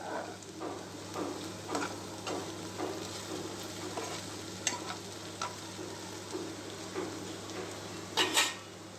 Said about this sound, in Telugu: మధ్య మధ్యలో కలబెట్టుకుంటూ ఉండాలి